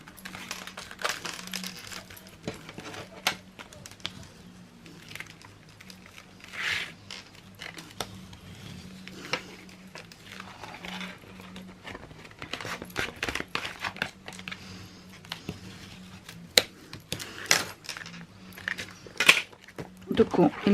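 Paper being folded and creased by hand for a handmade journal, with crinkles, soft rustles and sharp taps scattered among a French-speaking voice.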